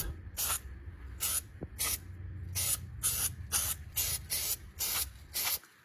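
Repeated short bursts of aerosol spray, about eleven quick hissing spurts in an uneven rhythm, close and fairly loud, with no talking.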